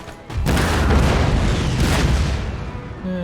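A loud cannon blast from an artillery battery in Empire: Total War erupts after a brief quiet moment, then a long rumbling roar fades slowly over a few seconds.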